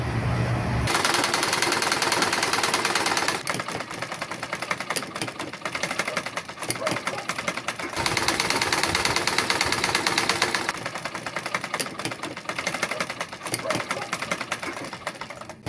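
A sewing machine whose stitch regulator rides up while sewing stitches in fast, loud, steady mechanical rattling bursts, stopping briefly and restarting several times, close to the microphone.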